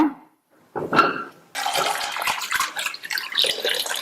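Water pours into a pressure cooker holding potatoes, a short splash first, then a longer, steady gushing pour filling the pot, close up and fairly loud with no talking.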